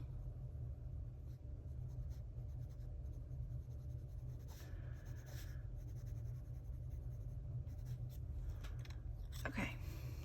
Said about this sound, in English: Hopefully I can fix that with pencils.